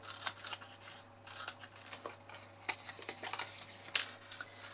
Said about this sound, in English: We're going to cut those wedges.